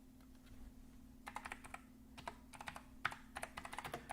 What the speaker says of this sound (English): I bought myself a mechanical keyboard and I love it, although it is a little clackety.